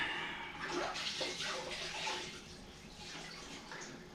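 Water sloshing and splashing in a large 2- to 3-gallon bucket filled to the top while glue is wiped off shuffleboard table legs, a steady close wet washing sound with no talking.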